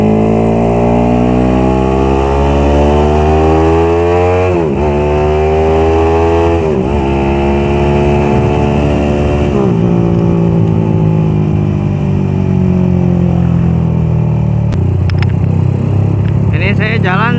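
A bored-up or stroked-up motorcycle engine revs steadily and loudly, pitch climbing and dipping in repeated rising sweeps, with a rough, raspy tone throughout and no voices over it.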